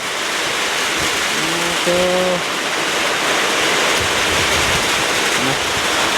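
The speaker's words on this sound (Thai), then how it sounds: "ฝนตกแห้งอีหลีพี่น้องเลย" Heavy rain with wind pours steadily outdoors in a rural Thai setting, a loud, unbroken hiss filling the whole stretch, with a brief tonal sound partway through.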